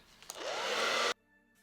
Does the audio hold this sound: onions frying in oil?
no